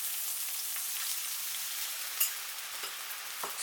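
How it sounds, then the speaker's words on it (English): Garlic, ginger and chili stir-frying in hot oil, with a steady, even sizzle and crackle running throughout and a few sharper pops near the end. "When they start to be golden, put the chili. Stir for 10 seconds."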